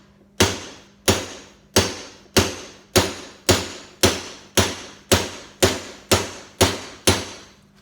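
A hammer drives steel stippling punches into wood to texture a carving background: about a dozen sharp, evenly spaced strikes roughly two-thirds of a second apart, each a crisp close knock with a short decaying ring, over a faint low hum.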